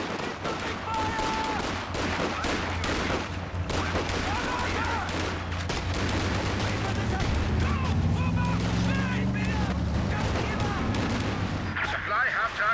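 Rapid gunfire and booming artillery from the game Company of Heroes 2 rattle on continuously, dense and loud, with in-game voices calling out over the battle.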